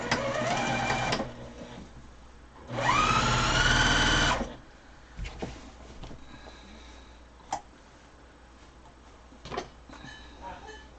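A sewing machine stitches a quarter-inch seam on a pillow, with a short burst of running followed by a longer steady run of about a second and a half, close and clear, with quieter handling noises afterward.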